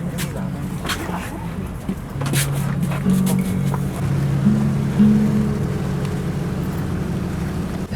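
A ferry crosses the sea toward an island off Malta, with a low engine rumble and rushing wind and water noise throughout, and a few tonal hums riding over the drone, with no clear talk.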